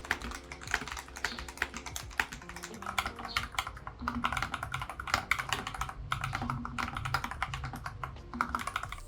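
Rapid, steady clacking of keys on an inexpensive hot-swappable mechanical keyboard with KTT Rose Silver switches, close and crisp, with continuous fast typing and no voices.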